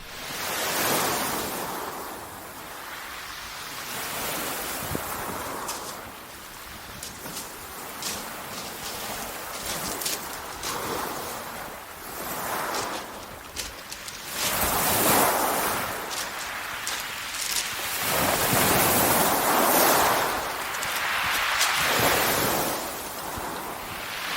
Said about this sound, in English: As the tide is on the turn and starts to ebb, the action picks up.